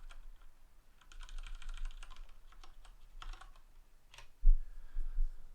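Clattering keystrokes on a computer keyboard in rapid runs and a few separate taps, close-miked, ending with a couple of louder thumps and no speech.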